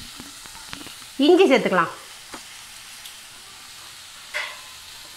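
Ivy gourd sautés in hot oil in a pan with a soft, steady sizzle. A brief louder burst of frying and a later short flare sound under a voice speaking.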